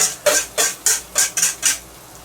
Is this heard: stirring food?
yes